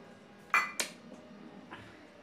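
Pots and dishes clink together during dish washing, two sharp close metallic knocks followed by softer faint clatters against a quiet background.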